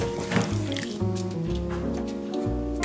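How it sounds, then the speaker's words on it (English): Tomato sauce pours into a pot of uncooked one-pot southwestern spaghetti with thick, wet squishing and dripping sounds, close by, over a steady tonal background. "now we'll put in the tomato sauce"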